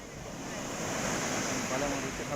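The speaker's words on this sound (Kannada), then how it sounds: "ದೊಡ್ಡ ದೊಡ್ಡ ಅಲೆಗಳು." Big waves roll on the Arabian Sea near the lighthouse at Surathkal during rough weather, a soft, continuous wash of surf that swells slightly midway and carries some wind rumble.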